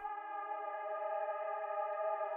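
A melodic synth in FL Studio, pitched up an octave with halftime, EQ cutting the lows and heavy reverb, plays as one steady, washed-out sustained tone that holds evenly throughout with no talk.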